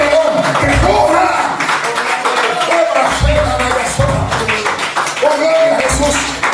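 A church congregation claps loudly during a sermon, with bursts of hand claps mixed with voices and crowd noise, swelling and pausing in uneven waves.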